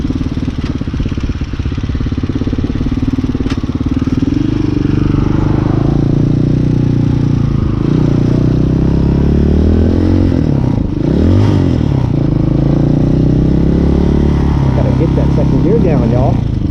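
A Hawk 250 motorcycle cruising around on Halloween, its engine droning steadily and continuously at close range for the whole stretch, with no pauses or sharp revs.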